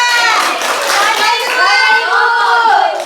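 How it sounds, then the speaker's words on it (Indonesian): A class of primary pupils claps for a presenting group during a microteaching lesson, the scattered clapping mixed with children's voices calling out over it. "beri tepuk tangan untuk kelompok 3"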